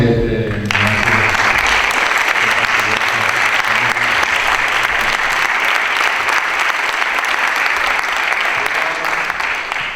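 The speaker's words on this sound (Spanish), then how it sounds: "quería dar un aplauso" A large audience bursts into sustained, loud applause at a commemorative event, dense steady clapping continuing evenly for the full stretch after a brief voice at the start.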